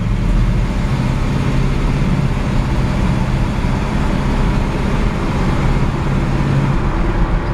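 A 1957 GMC 100 pickup with a 454 big block and turbo 400 transmission driving, a loud steady low engine drone and road rumble filling the whole stretch without speech.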